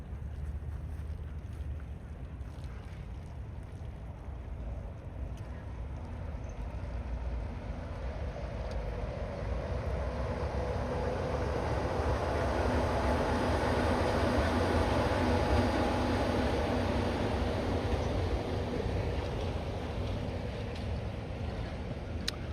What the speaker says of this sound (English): There's a monorail coming.